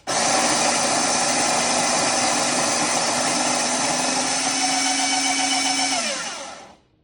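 A Nespresso Vertuo Pop coffee machine whirs loudly and steadily as it spins the capsule while brewing, holding one even motor tone for about six seconds before winding down and stopping.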